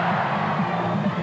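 Large stadium crowd at a 1992 Samoa versus Tonga Pacific Cup rugby final roars steadily in support of the Tongan side, a dense sustained cheer with no break over the whole short span.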